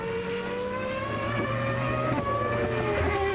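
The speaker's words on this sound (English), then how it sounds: "A flash of silver is Häkkinen's McLaren passing the pit lane" Mika Häkkinen's silver McLaren Formula 1 car from the 2000 season passing the pit lane, its high-pitched engine whine steady and loud, the tone shifting slightly as it goes by, with no talking.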